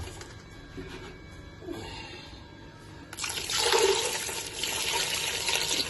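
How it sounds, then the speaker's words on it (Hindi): Water pours into a pot of husked corn cobs, about three litres, a rushing broadband splash that starts after a quiet kitchen lead-in and continues steadily, fairly close and louder than the background. "3 लीटर इसमें पानी डाल दिया।"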